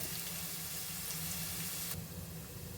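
Vegetables such as beans and carrots fry with paneer in ghee, giving a steady close sizzle with an even hiss throughout and no voices.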